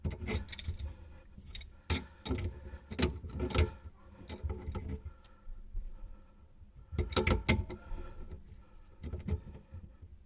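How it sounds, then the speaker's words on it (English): A kitchen faucet fitting being unscrewed by hand under a sink: quiet, close metallic clicks, rattles and jangling in intermittent bursts separated by near-silent pauses. "I'll hold this while I'm unscrewing it so it doesn't move too much."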